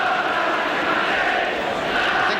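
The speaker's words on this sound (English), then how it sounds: "So there's applause for Osgood for the way he chased it on that one." A football crowd applauds and roars at a 1972/73 Division One match between Chelsea and Arsenal, a dense, sustained wash of distant stadium noise.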